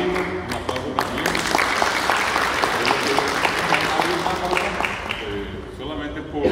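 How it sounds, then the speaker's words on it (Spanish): Sustained, loud applause from an audience at a public event in Corrientes, Argentina, with many hands clapping throughout and the odd sharper individual clap standing out. "Para Belino, un aplauso también."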